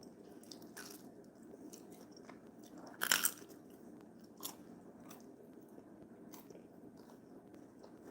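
A single crisp bite into crunchy, cracker-like pizzeria-style pizza with a flaky base, heard up close as a brief loud crunch, followed by faint chewing against a quiet room background.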